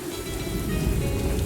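Steady rainfall in a rainforest from the game Morels: The Hunt 2, a dense continuous hiss of drops heard alone for a short moment.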